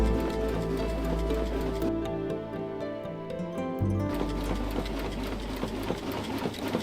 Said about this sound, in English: the machine applies the paste in less than a second